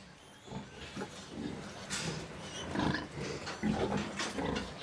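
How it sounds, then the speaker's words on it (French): Pigs on a roughly 3000-head pig farm grunting and squealing in a dense, continuous chorus, with several louder squeals rising out of the crowd noise. "Son élevage compte environ 3000 porcs."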